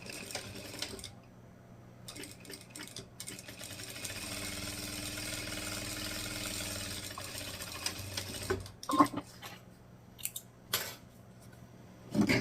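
Sewing machine stitching a seam along both sides of fabric for an Easter basket, running in steady whirring bursts with brief pauses, then a few short clicks and handling sounds near the end.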